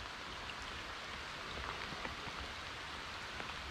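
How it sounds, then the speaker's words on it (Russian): Steady rain falls on a fishing trip for coho salmon in America, a soft continuous patter with scattered individual drops, no voices present. "дождь так и не прекращается"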